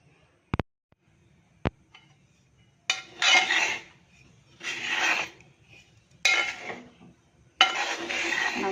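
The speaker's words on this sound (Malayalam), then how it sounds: "ആദ്യ ഉരുളിയിൽ നമുക്ക് വറുത്തെടുക്കാം." A snack being roasted and stirred in an uruli pan: two sharp clicks, then repeated bursts of scraping and rustling as the mixture is turned over, separated by brief pauses.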